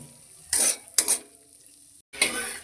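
Water poured into hot fried spice paste for a catla fish curry sets off short loud bursts of sizzling and stirring in the pan, separated by quieter stretches and one brief silent gap.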